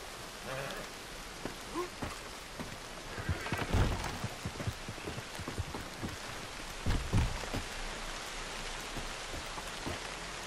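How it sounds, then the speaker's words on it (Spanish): Steady rainfall patters down with scattered droplet hits and a couple of louder thumps in the video game Red Dead Redemption 2, with no voices. "El sonido de la lluvia, impresionante todo."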